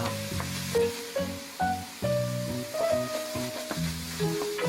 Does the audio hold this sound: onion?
yes